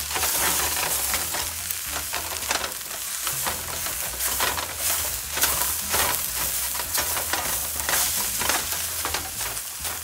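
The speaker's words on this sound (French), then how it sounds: "You need to fry the rice first." Rice fries in a pan for red fried rice with mutton while being stirred, a steady close sizzle broken by repeated scraping strokes of the spoon.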